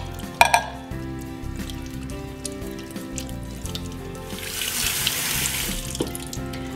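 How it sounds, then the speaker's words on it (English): Canned beans being rinsed under a running kitchen tap in a sink for chili, a steady rush of water with a few sharp clinks near the start and a brighter hiss building toward the end. "And you're gonna rinse just until the water drains clear."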